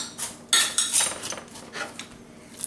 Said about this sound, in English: we're going to mix the corn flakes and the butter